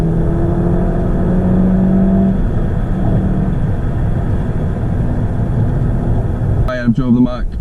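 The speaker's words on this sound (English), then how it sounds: "It puts the power down nicely" A Mark 7 Volkswagen Golf GTI accelerating, its engine a steady, loud low drone with a pitch that climbs early on. A voice breaks in briefly near the end.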